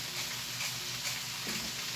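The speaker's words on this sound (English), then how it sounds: "we've still got our sizzle going." Cauliflower and onions sizzle steadily in a pan with bacon, a constant bright hiss with faint crackles, close and uninterrupted.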